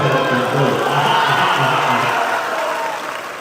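A mushaira audience claps in a broad, steady wash of applause mixed with crowd noise and shouts, fairly loud throughout and easing slightly near the end, with a voice audible over it.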